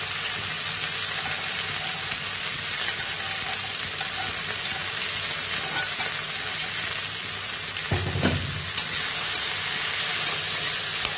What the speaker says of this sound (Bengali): এবার ঢেঁড়স ভাজাটা করবো